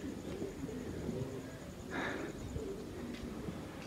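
Pigeons coo softly in a home loft where young birds and netted pigeons are kept, a faint low murmur running steadily under a constant background hiss, with no talking.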